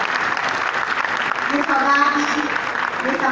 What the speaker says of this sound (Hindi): हम सब भी अपने माननीय प्रधानमंत्री महोदय के प्रति आभार व्यक्त करेंगे जोरदार तालियां बजाकर